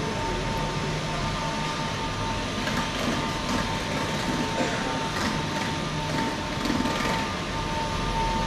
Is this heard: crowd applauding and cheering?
no